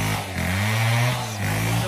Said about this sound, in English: And the chainsaw there.